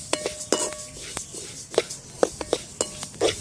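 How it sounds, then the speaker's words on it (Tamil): Sesame seeds are dry-roasted in a pan, stirred with a metal utensil that gives sharp clinks and scrapes at an irregular pace over a quiet background. "ஒரு 2 நிமிஷம் நல்லா பொரிய விட்டு வறுத்து எடுத்துக்கலாம்"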